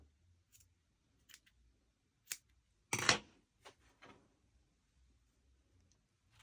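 A few quiet snips of scissors cutting strands of white yarn for a crocheted goat, one sharper cut standing out among soft handling sounds in a hushed room.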